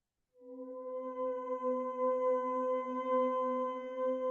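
Spell Slinger plugin voicing a layered magical, mystical tone: a soft sustained harmonic drone that swells in quietly and holds steady with gentle wavering, alone and fairly faint.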